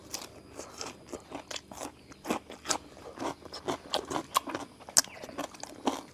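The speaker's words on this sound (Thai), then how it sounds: "กรอบมาก่อนอร่อยมากกรอบมันนะลูกเนียง" Crispy fried food crunches loudly in repeated bites and chews, a close, crackly series of sharp snaps at dinner. No one talks over the crunching.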